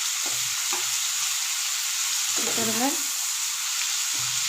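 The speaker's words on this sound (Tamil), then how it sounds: "உப்பு போட்டிங்கன்னா சீக்கிரமாக தக்காளி வதங்கிடும்." Onion and tomato sauté in a hot pan with salt for peanut chutney, giving a steady loud sizzle with scraping stirs throughout and a brief spoken word partway through.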